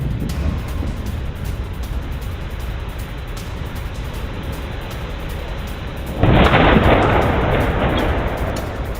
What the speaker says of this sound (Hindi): अब रूस ने कीव पर स्कैंडर मिसाइल से अटैक किया।